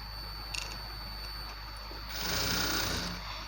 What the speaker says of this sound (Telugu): దీనిపై నుండి మనం డబల్ స్టిచ్ చేసేసుకుందాము